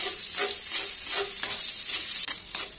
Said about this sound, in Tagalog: And then sa isang kawali ay maglagay tayo ng kaunting mantika. At igisa natin ang luya.